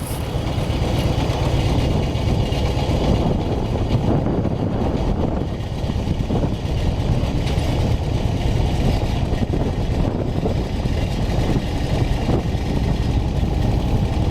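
A Honda Gold Wing motorcycle cruising along the Million Dollar Highway, a mountain road with steep drop-offs, gives a steady, loud engine drone mixed with wind rush that holds unbroken throughout.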